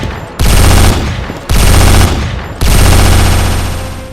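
A heavy machine gun fires in the Counter-Strike video game, ripping out three long, loud automatic bursts close up, each starting abruptly and trailing off before the next.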